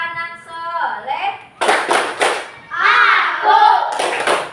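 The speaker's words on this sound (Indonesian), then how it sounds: "Tepuk anak soleh." A class of children clapping the 'tepuk anak soleh' rhythmic chant, bursts of hand claps and thumps interleaved with loud voices chanting and speaking close by.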